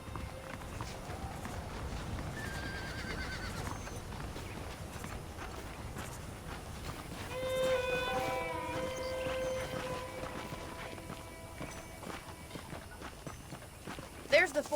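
Horse hooves clip-clop steadily in the Red Dead Redemption video game, a continuous rhythmic patter under spoken dialogue with a swell of background music midway.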